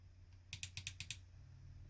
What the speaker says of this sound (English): the mouse is very clicky because that's the nature of Atari mice and Amiga mice in those days